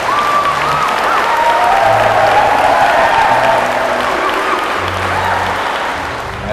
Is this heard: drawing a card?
no